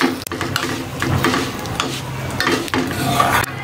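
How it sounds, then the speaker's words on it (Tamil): Vermicelli roasting in ghee in a pan for milk payasam, a continuous close scraping and stirring with light sizzle and occasional metallic taps; no voices. "நெய்லேயே வறுத்துடலாம்"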